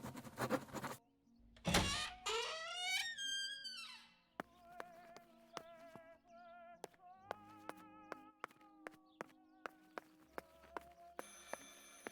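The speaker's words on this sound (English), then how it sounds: "I should pick up the phone but remain silent." A telephone rings in a video game, its tones mixed with game music: a series of bright, repeated electronic chimes with sharp evenly spaced clicks, fairly faint and without speech.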